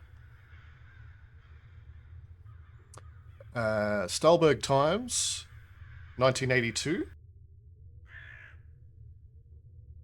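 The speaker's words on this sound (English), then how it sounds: "You can hear the birds off in the distance." Distant crows caw in the video game INFRA, faint calls scattered behind a steady low hum while someone talks loudly over much of the stretch.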